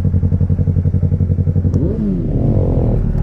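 Kawasaki H2 and BMW S1000R motorcycles drag racing at Henstridge: a loud, pulsing idle gives way to rising engine revs as the bikes launch and accelerate hard, close by, with no talk.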